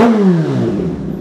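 A Kawasaki ZH2 supercharged motorcycle with an AR exhaust revs at high RPM, a loud, close engine roar that drops in pitch as the rev falls away over about a second.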